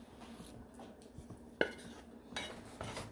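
Macaroni noodles stirred together with lobster, butter and sauce for a bacon lobster mac and cheese, giving soft utensil clinks and scrapes against the dish with one sharper clack midway, close and fairly quiet.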